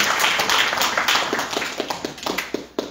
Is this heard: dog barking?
no